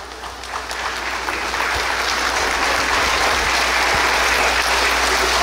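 Sustained applause from a crowd at a preschool graduation ceremony, steady clapping that swells slightly at the start and continues at full strength throughout.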